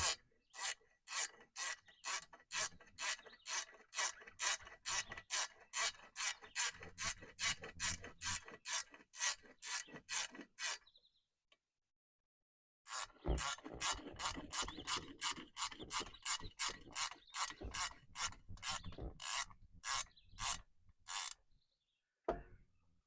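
A ratchet wrench tightens the visor bolts on a Peterbilt 379 truck, giving rapid, evenly spaced rasping clicks in two long bursts split by a brief pause, close up and with no talking.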